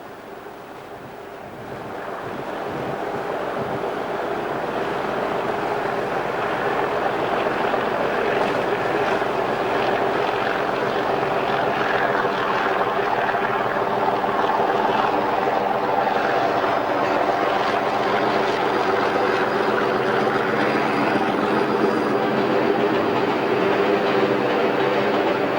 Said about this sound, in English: Joining the Tilbury line west of Barking is an engineer's train from Temple Mills.